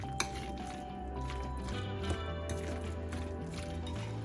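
Avocado guacamole with onions stirred in a bowl, giving soft wet squishing and a few light clinks against the dish, steady and close with no talking.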